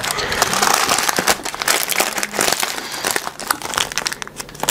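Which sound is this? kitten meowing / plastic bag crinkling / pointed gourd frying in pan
plastic bag crinkling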